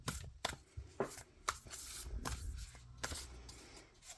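A deck of oracle cards being shuffled by hand, with a series of crisp riffles and slaps at roughly half-second intervals, close and fairly quiet, alone without talk.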